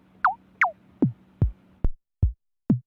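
Seven short synthetic sine-wave drum hits from an RD-19 drum synth plugin, with a sharp attack and quick downward pitch sweep, evenly spaced, played alone and fairly clean.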